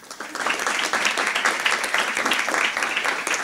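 Enthusiastic applause from an audience swells in quickly and holds steady, a full dense wash of clapping.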